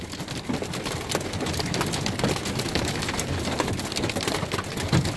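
Hail pounds on the roof of a camper van during a first hailstorm, a dense continuous clatter of sharp impacts with a steady roar, close and loud, with no voices.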